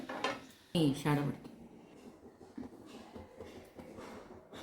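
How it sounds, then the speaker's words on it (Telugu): A pan set down on a gas stove while noodles are being prepared, giving two close metallic clanks in quick succession followed by quieter kitchen rustling. "ఇప్పుడు స్టవ్ వెలిగించి ప్యాన్ పెట్టుకోవాలి"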